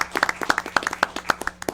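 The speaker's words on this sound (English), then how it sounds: "I think it's worth a round of applause." Applause at a county fiscal court meeting: a short burst of scattered, uneven hand claps from a small crowd in a room, fairly close and moderately loud, with no talk over it.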